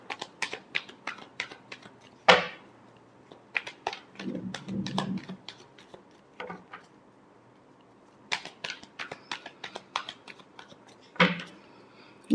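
Tarot cards being shuffled by hand in dry, rapid bursts of crisp flicks and riffles, with short pauses between bursts and a louder slap now and then, close and alone without talk.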